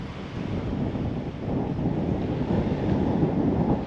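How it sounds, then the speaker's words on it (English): Strong wind gusting outside a football stadium at St James' Park on a sunny day, a loud continuous rushing roar buffeting the microphone and building slightly toward the end, with no voices. "I'm so glad we've got a nice day for it, but boy is it windy."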